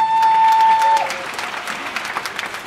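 An awards-show audience applauds a band at the Mega Muzika Awards 2018, a dense burst of clapping that tails off gradually after a sustained tone fades out at the start.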